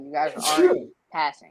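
A single sharp sneeze bursts out in the middle of a group's casual chat, loud and close, with talk carrying on around it.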